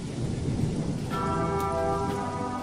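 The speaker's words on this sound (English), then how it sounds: "I guess it's raining again." Steady rain pouring with a deep, rumbling roll of thunder underneath, joined midway by a sustained ringing tone, in the video game The Chronicles of Myrtana: Archolos.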